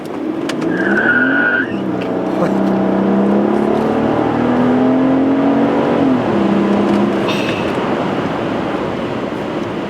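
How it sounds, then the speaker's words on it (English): A Mercedes-Benz SL600 with a twin-turbo V12 pulls hard in a first-gear roll-on, its engine note climbing loudly through a long rising sweep, with a short tire-like squeal near the start. "This is a first gear roll-on. I mean, this is nuts, this kind of power."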